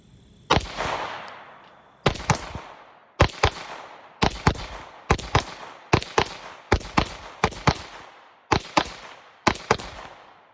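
Glock Gen 5 pistol firing 147 grain Federal HST +P rounds, about ten sharp, loud shots, singly and in quick pairs, with echoing decay between them.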